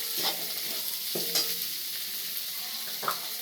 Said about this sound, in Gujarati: થોડીક વાર હલાવી લઈશું આપણે એને સરસ રીતે.